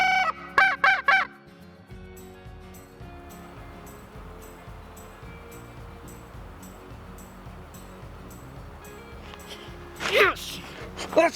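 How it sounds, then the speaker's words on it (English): Wild turkey gobbles out in the open during a western turkey hunt, a rapid loud burst at the start and another near the end, with a quieter stretch of ambient noise between and hunters talking. "We got him gobbling right down here."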